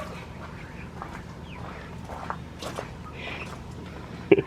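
Chickens in a backyard enclosure give short, scattered clucks and squawks at moderate distance, with light footsteps and outdoor rustling between the calls.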